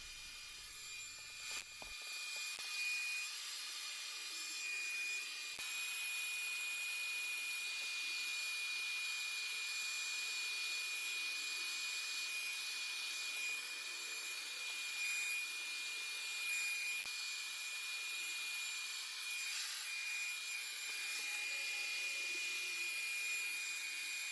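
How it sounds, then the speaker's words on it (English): A steady, loud whooshing roar of a vacuum catching dust runs continuously, with faint scraping of drywall sanding underneath and no talking. "keep the vacuum behind it, and the dust will kick out on the backstroke as you sand"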